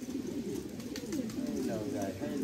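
Pigeons at a pigeon-flying loft in Qataghan coo in low, warbling, repeated calls, with a person talking close by over the birds.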